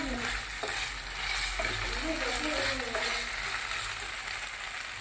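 Ginger garlic paste sizzling and frying in hot oil for a Manchurian masala, a loud, steady hiss running throughout with occasional stirring scrapes close by.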